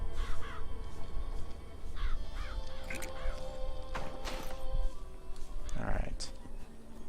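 Crows caw in the video game Bioshock Infinite, with several harsh, repeated calls cutting over a busy game soundscape and a voice talking underneath.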